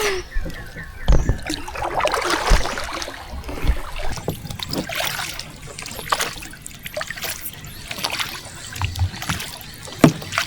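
A small boat is rowed on clear, deep water in Vietnam, with soft paddle splashes and trickling drips recurring close by under intermittent voices talking.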